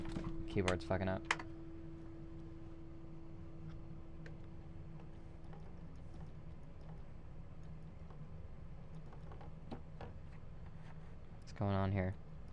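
Computer keyboard typing during a live stream, with scattered light key clicks through a steady background hum and a louder burst of keystrokes near the end; no talk in the clip.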